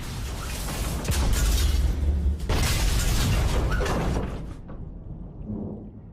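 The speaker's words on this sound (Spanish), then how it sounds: "Están atrapados en esa lata diminuta con explosiones que sacuden el barco." Depth charge explosions shaking a submarine in World War II, heavy booming blasts and rattling metal roar that swell for several seconds, then fade to a faint rumble.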